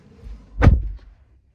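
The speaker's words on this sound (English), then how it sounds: "closing the door" A Toyota 4Runner SR5 door swings shut with a single solid, close thud, followed by a brief fading rattle and near silence.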